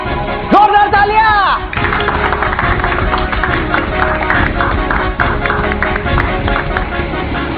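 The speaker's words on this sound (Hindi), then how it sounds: "जोरदार तालियां।" A magic show audience breaks into dense, sustained clapping that fills most of the clip, following a brief tonal opening that sounds like music or a voice.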